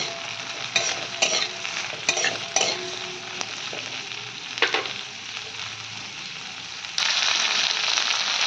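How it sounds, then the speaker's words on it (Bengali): Capsicum is stirred in a frying pan over steady sizzling oil, with scattered scraping strokes of the spoon and a louder burst of frying near the end, no voices. "এটা দিয়েও খানিকক্ষণ নাড়বো"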